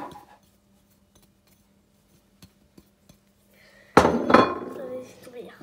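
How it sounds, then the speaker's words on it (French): Yogurt cake batter being mixed in a bowl, a sudden burst of utensil scraping and clinking against the bowl after near silence with a few faint taps. "Et on remet un petit peu à mélanger."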